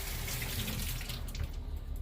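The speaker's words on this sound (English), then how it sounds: "we have to wash our tomatoes to keep sanitary. So, bring it over here, give it a good rinse," Tomatoes rinsed under a running kitchen tap, a steady broadband rush of water splashing into a sink, continuous and close with no talk.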